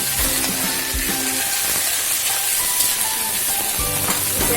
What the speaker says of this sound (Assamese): এতিয়া এইখিনি অলপমান ৰঙচুৱা হোৱাকৈ ভাজিব লাগিব।